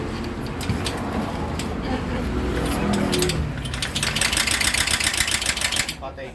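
A Honda motorcycle engine idles just after being restarted, a steady rough rumble close by that grows busier and louder toward the end, with a voice briefly over it.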